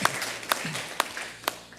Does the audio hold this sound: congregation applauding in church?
yes